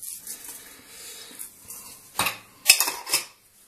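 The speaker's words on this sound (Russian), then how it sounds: "Это дело я перемешаю." Croutons tossed with olive oil, salt and thyme in a bowl, giving soft scraping and rattling with a few sharper clinks of a utensil against the bowl, close and intermittent, with no talk.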